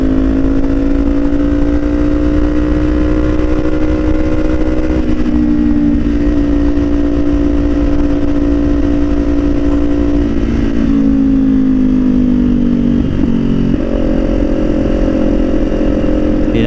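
A motorcycle engine drones steadily at close range, pitch dropping and rising as it shifts gears while riding along a road.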